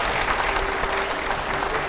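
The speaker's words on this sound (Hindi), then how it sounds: "पहले जोरदार तालियां होनी चाहिए यहां पर" A studio audience at a televised discussion with Anupam Kher and five editors breaks into a short burst of loud, even clapping, with a faint steady hum underneath.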